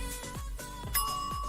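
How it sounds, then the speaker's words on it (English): A bell sound effect rings out on request, several clear bright dings repeating over about a second and a half, close and alone. "Bell, please."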